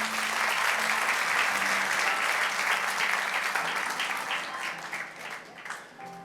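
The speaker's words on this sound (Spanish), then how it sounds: "Denle un aplauso fuerte a nuestro Dios." A church congregation in New York gives loud, sustained applause during a sermon, a thick roar of many hands that stays strong before tapering off, with a faint tone lingering beneath.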